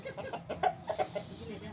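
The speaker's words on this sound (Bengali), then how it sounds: "হাইদুরি মুরগা" A Haiduri fighting rooster on a poultry farm gives a quick run of short, nearby clucks, with a voice faintly present around them.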